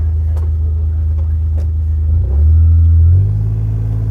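Mule utility vehicle engine revving to get unstuck, a loud close low rumble that surges and deepens partway through, holding a heavier steady drone, with no talk.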